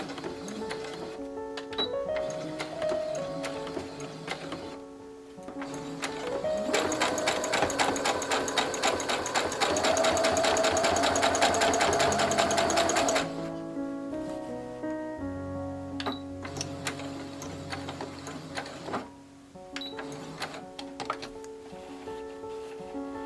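A sewing machine runs a straight armpit seam with a 5/8-inch allowance. The rapid mechanical whirring starts and stops, with one louder steady run of stitching in the middle and a quieter hum around it.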